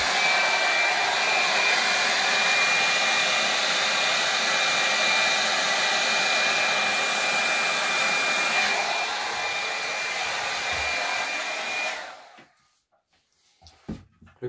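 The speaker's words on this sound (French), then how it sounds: "Comme j'ai une petite toile, j'ai mis un petit gobelet sur mon sèche-cheveux." A hair dryer with a small cup fitted over its nozzle blows air onto a small canvas painted with titanium white, a steady loud broadband rush for about twelve seconds before it cuts off, followed by near silence and a few faint handling knocks.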